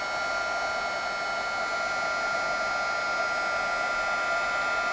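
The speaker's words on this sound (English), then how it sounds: "It does take a couple of minutes for the embossing powder to heat up, or the embossing gun to heat up" A handheld embossing heat gun blows hot air to melt embossing powder on a greeting card, a steady, loud, unbroken fan roar that holds evenly throughout with no talking.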